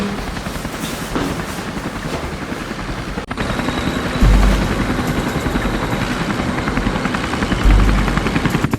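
A military helicopter's rapid rotor chop thumps steadily and loudly throughout, with a dense mechanical drone and a few heavier thuds mixed in.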